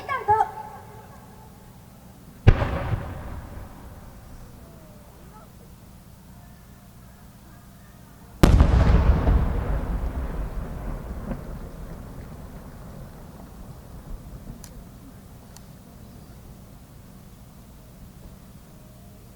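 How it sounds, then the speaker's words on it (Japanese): No. 8 creative firework shell by Hibikiya Omagari Enka of Akita, at an outdoor fireworks show: a sharp crack, then a much louder deep boom about six seconds later, rumbling and fading over many seconds. "創造花火8号玉ターコイズを散りばめたペンダント"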